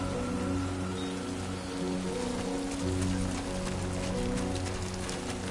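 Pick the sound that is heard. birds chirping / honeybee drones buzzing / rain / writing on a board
rain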